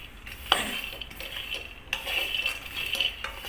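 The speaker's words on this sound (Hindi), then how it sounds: "इसको हमें अच्छे से चलाते हुए भूनते रहना है।" Peanuts dry-roasting in a pan over a low flame, stirred with a utensil that scrapes and clinks against the metal in quiet, uneven strokes, with a faint sizzle underneath.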